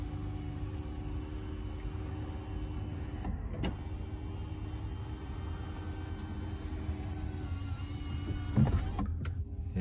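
Motor whirring steadily as the sunroof of a GMC Sierra 1500 Denali pickup opens, heard inside the cab with a low constant hum and a mechanical clunk near the end.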